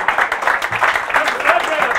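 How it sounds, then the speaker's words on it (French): An audience at a comedy club applauding, a brief burst of dense clapping with voices audible over it. "Est-ce qu'on peut applaudir pour eux?"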